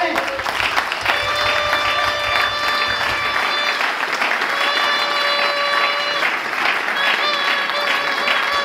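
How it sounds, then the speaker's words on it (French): An audience at a Christian church assembly applauds and cheers to welcome the standing cell members. The clapping is dense and sustained from start to finish, with tonal voices or music ringing above it. "On peut quand même acclamer."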